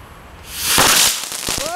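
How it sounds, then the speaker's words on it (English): Backyard fireworks being lit: a rising fizzing hiss swells into a loud burst, then several sharp crackling pops follow in quick succession, close and loud. "We're lighting up fireworks"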